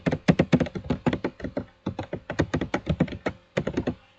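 Someone types C++ code on a computer keyboard, producing a close, rapid run of crisp key clicks in uneven bursts with brief pauses.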